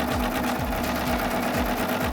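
A serger sews a rolled wave stitch, running in a steady, fast, rhythmic mechanical whir at close range with no talk.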